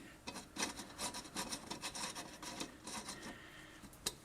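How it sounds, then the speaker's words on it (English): A Phillips screw with a washer is tightened into a CheetahStand insert, giving a close, quiet run of gritty rasping turns in quick uneven bursts, ending with a sharp click. "Tighten down the screw."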